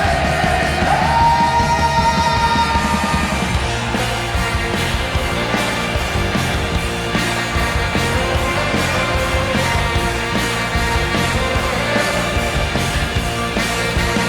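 A concert crowd at a show roars and yells steadily throughout, a dense wall of whoops and cheers sitting loud and close with music faintly underneath.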